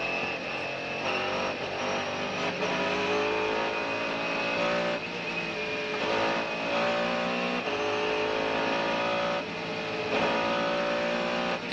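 A Mercedes-Benz CLR race car screams along a circuit at full throttle, a loud, sustained high-pitched engine howl with rising and falling revs, and no talk over it.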